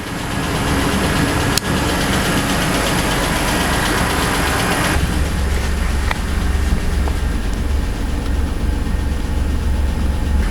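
A Mitsubishi Pajero 3 with a GDI engine idles steadily at about 900 rpm while warming up, a close, loud, continuous rumble with a brief click early on and no talk.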